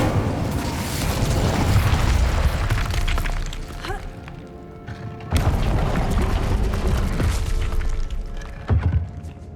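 Incendio fire spell cast in Hogwarts Legacy, two loud booming bursts of flame a few seconds apart, each sustained with a crackling roar and fading tail.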